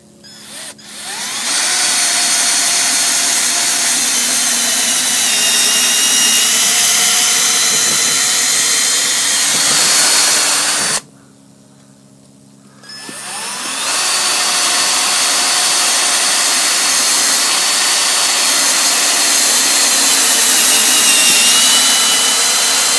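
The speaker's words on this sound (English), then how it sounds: "I'll show you on camera here, drilling some holes. It's on speed 1, and on the drill mode on the chuck." A Kobalt 18-volt cordless drill, set to speed 1 in drill mode, bores holes with a steady, loud motor whine. It stops briefly partway through, then spins up again and runs on.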